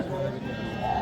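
Sheep bleating amid a busy livestock market in Kokand, a steady crowd murmur and people talking underneath the animal calls.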